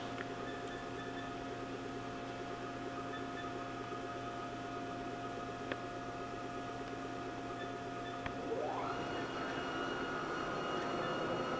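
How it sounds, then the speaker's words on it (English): A Haas VF4 vertical machining center with a 15 horsepower spindle runs at about 2000 RPM, giving a steady, faint, layered hum with tonal whine and a rising pitch sweep near the end. "We're running the spindle right now"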